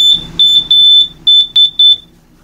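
Loud, piercing smoke alarm beeps close by inside a Wildwood Lodge 403FB travel trailer, a run of sharp high-pitched chirps, some long and some short, then silence.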